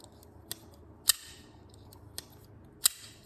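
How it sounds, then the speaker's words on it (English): A Zero Tolerance assisted folding knife snaps open by its flipper tab in four sharp, crisp clicks spread across a few seconds, each loud and close against a quiet background. "any sort of assisted knives, they're gonna fire nice and hard"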